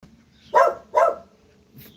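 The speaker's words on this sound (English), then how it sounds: "he barking at that man working over there" A dog barking at a man working nearby, two sharp, fairly close barks about half a second apart, followed by a fainter third yelp.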